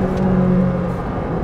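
A Ferrari 458 Speciale engine accelerating in sport mode drones steadily up close, a loud, continuous tonal whine with no voices.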